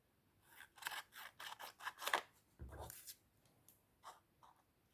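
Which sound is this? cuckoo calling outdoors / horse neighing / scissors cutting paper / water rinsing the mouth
scissors cutting paper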